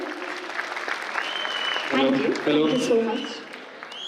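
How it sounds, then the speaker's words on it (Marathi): A crowd at a student felicitation ceremony at a defence training academy in Pune claps briefly, with a voice speaking over the applause. "एकदा जोरदार टाळ्या होऊन जाऊ द्यात रे."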